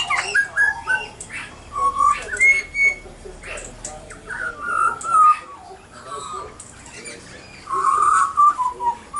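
Pied butcherbirds and magpies sing close by, clear fluting whistles and warbling phrases that rise and fall in bursts with short pauses, no talking.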